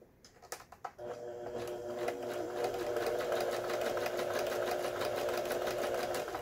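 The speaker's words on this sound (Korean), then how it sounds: "지그재그 바느질." A Japanese-domestic Janome household sewing machine, freshly repaired, runs a zigzag stitch: a few short clicks, then a loud, steady, close mechanical whir with a fast rhythmic pulse that continues to the end.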